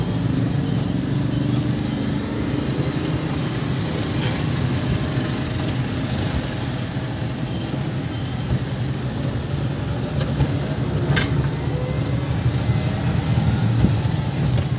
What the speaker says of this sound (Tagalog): Sarap mag-drive dito sa amin, wala masyadong sasakyan.